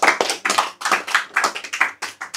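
A small crowd claps for a couple of seconds, quick sharp overlapping hand claps that come in uneven bursts, close and fairly loud.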